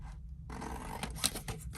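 Scissors snipping through paper craft pieces for a folio project, a couple of close, crisp cuts with rustling paper over about two seconds.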